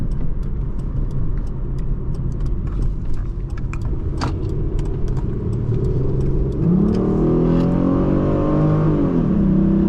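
A 2003 Hyundai Sonata 2.7 V6 engine drones steadily, then climbs in pitch as it accelerates hard, loud and close from inside the cabin, with faint clicks earlier.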